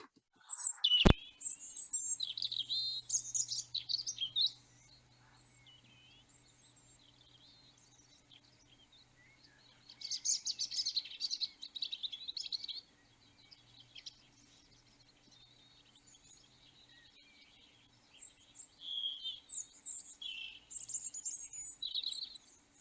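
A songbird sings in separate bursts of rich, varied warbling phrases with quiet gaps between them, clear and fairly close over a faint low hum.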